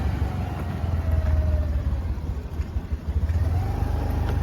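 A vehicle drives along a road through a forested stretch on the Ratnagiri to Guhagar route, its engine rumbling steadily and fairly close for several seconds, with no speech over it.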